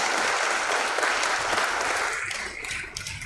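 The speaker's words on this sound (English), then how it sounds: "let's have a huge round of applause" Audience applauding at a stock exchange listing ceremony, a dense burst of clapping from a crowd that holds steady and then tapers off near the end.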